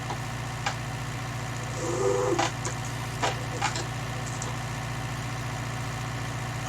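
An idling tractor engine, resting from grass work before the sugar beet harvest, holds a steady low rumble throughout, with a few brief clanks and knocks over it.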